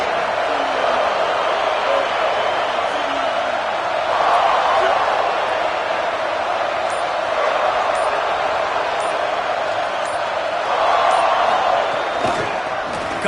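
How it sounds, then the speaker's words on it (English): A stadium crowd at a football game roars in a loud, constant wash that swells in a couple of places, while a commentator talks over it. "This crowd bringing an ear-splitting welcome to their visitors"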